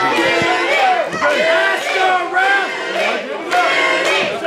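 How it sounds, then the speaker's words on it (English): A wrestling crowd at a CWF Mid-Atlantic Wrestling event cheers and chants loudly for Faye Jackson, a steady roar of many voices rising in repeated surges. "Crowd's coming up for Faye Jackson."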